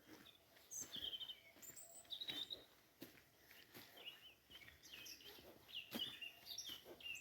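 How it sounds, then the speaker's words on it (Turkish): Small birds sing outdoors in the Black Sea countryside, bright chirps and short warbling phrases scattered over a quiet background, some nearer and some farther off, with faint rustling or steps between calls. "Şu kuşların ötmesi var ya beni öyle benim içim açıyor ki"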